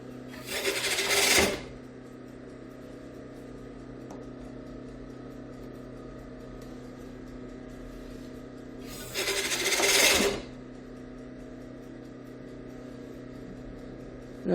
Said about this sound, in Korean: 깎음질을 해보도록 하겠는데요.